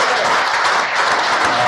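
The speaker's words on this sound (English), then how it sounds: "let's just give him and his staff a big round of applause" Audience at a school event gives a big, loud round of applause for a lecture series organizer and his staff: steady, dense clapping throughout.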